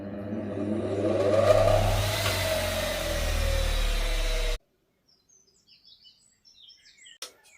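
A powerful high-speed polishing machine for copper restoration spins up on a test run, a loud whirring motor tone that rises then holds steady before cutting off abruptly, leaving faint chirps after.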